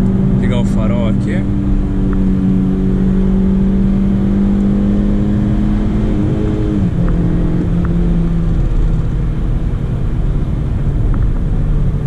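A 2011 Honda Civic LXL 1.8 manual revs up on a highway, its engine note climbing steadily in pitch under constant road and wind rumble before easing off near a 7000 rpm cut.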